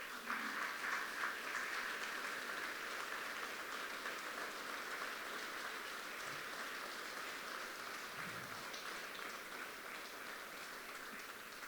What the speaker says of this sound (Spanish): Quiero invitarte a que le des un fuerte aplauso a Dios